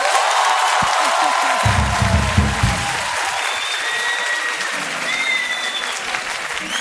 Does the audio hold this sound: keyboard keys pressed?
no